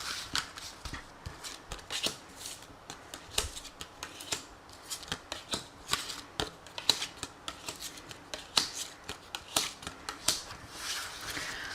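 Oracle cards being shuffled by hand for a card reading, a series of close, soft riffling and slapping bursts in an irregular rhythm, with no talking.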